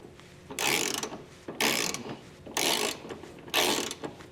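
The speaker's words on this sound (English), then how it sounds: "Now on those serrated flange nuts, we're going to do those first so it kind of pulls the hitch up before tightening the side." A ratchet with an 11/16 socket tightens serrated flange nuts on a Curt trailer hitch receiver being fitted to a 2016 Buick Encore, giving four loud, close bursts of rapid pawl clicking separated by short pauses.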